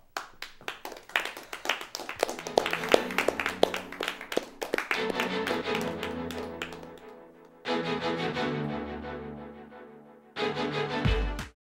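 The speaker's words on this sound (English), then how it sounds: "Thank you for that very polite applause." A talk show studio audience: scattered hand claps build into a brief round of applause, then fade into lingering tones and a low thump at the end.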